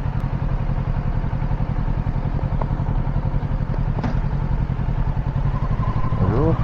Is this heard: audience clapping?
no